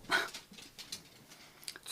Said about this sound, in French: à chaque fois que je parle, mon chien jappe